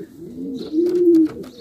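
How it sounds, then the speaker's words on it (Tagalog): A racing pigeon coos close by, a low throaty rolling call that swells into one sustained note and then fades. "Itong ibon ni Boss Hoodlum"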